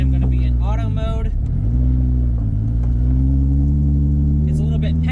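Toyota 2JZ engine fitted to a Nissan S14 with an 8HP70 automatic transmission, heard through a new manifold as a steady, loud low rumble with rising and settling revs throughout.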